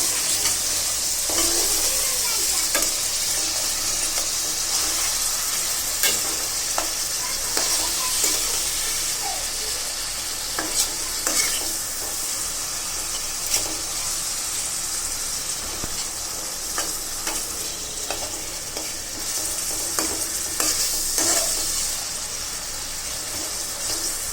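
Onion, garlic, tomato, green chili and a little dried ribbonfish stir-frying in a pan, with a continuous close sizzle and repeated scrapes and clacks of a stirring spoon throughout.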